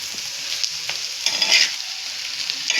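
Bombil (Bombay duck) thecha with fresh coriander fries on a hot tava, a steady sizzle broken by scraping, clattering stirs that come and go.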